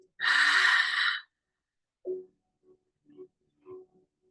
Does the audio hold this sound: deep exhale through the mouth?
yes